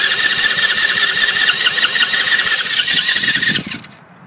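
Four-wheeler engine cranking with the choke pulled up, a loud, steady whirring crank with a high whine, close by, that cuts off abruptly near the end without catching.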